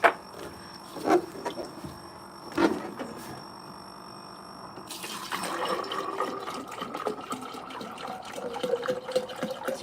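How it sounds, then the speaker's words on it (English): Water pours into a lab beaker stirred by a magnetic stir bar in a chemistry lab, a steady splashing trickle rising after a few faint clicks and continuing close and moderately loud with no speech. "Let's add some water."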